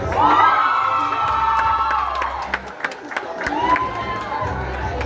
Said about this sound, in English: Let's keep the applause going for Vanessa